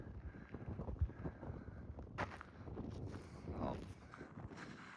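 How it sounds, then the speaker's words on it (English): Cool wind on a high mountain pass along a long-distance hiking trail buffets the microphone with a low rumbling roar, faint and continuous, with soft footsteps underneath. "up here, it's a nice cool wind"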